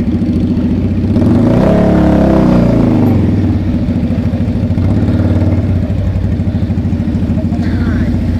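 A large motorcycle engine roars loudly and close, its revving rising to a peak and then holding at a steady rumble on a road at dusk.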